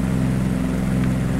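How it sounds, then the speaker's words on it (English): A Pawnee propeller plane drones steadily in flight in a flight simulator game, a loud, constant engine hum with no break. "Been a while since I've flown a Pawnee."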